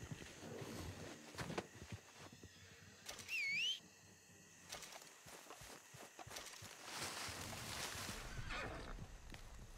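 A horse in Red Dead Redemption 2 Online gives a short, sharp whinny with a wavering pitch, close by, amid hoof clops, rustling movement and game ambience.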